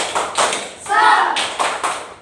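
A fourth-grade Islamic studies class claps out a short rhythmic spirit cheer: a few crisp, evenly spaced claps, a loud group shout in the middle, then more claps in pattern.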